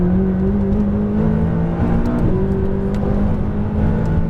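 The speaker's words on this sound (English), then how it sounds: "Full throttle down the straight." A car engine at full throttle down a straight on a track session, a loud, steady, sustained drone with a rising pitch as it pulls hard, close up and unbroken throughout.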